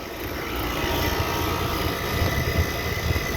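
Rattling 2009 5-ton air conditioner condensing unit with a Copeland scroll compressor, behind a shopping center, heard close up as a steady loud mechanical drone with fan roar and an uneven buzzing rattle.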